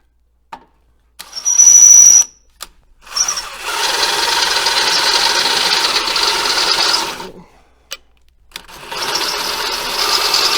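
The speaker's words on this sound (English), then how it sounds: "we're just gonna drill out these 4 to 3/8" Power drill boring holes out to 3/8 inch through a heavy-duty rear skid plate for a Kawasaki KRX 1000, with a short whining burst, then a long steady grinding run of several seconds, a pause, and another run starting.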